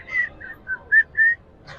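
Someone whistles a short tune of several clear, high notes with small pauses between them, fairly close and with no voices.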